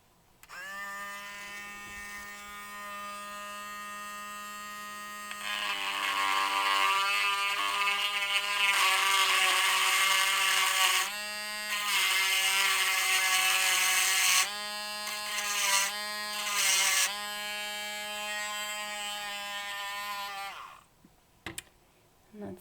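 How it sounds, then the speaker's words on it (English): High-pitched whine of a small Dremel rotary drill on high speed boring a hole in an eggshell, starting softly then rising into louder bursts of grinding, stopping and restarting before cutting off. "I also use my drill on high for this"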